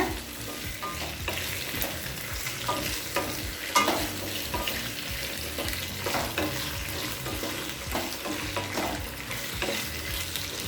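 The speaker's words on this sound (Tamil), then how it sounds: "உருளைக்கிழங்கு எண்ணெயிலே நல்லா வதக்கிக்கலாங்க" Potatoes sizzling and crackling in hot oil, with repeated scraping and stirring noises over a continuous loud frying hiss.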